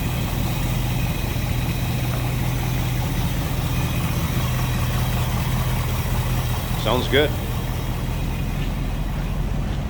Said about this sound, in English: no crazy exhaust, just a nice little deep throaty exhaust note